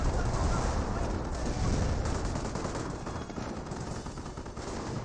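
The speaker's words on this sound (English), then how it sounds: "Pretty good 25 pounder barrage there on the Hetzer" A 25-pounder artillery barrage in the Company of Heroes real-time strategy game, a dense, continuous rumble of overlapping shell blasts and gunfire holding loud and steady with no voice over it.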